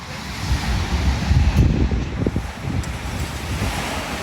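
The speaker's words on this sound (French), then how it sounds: "Avez-vous vu ces vagues?" Lake waves break on the shore at Lac-Saint-Jean, a steady, loud wash of surf with heavy wind buffeting the microphone and no voices.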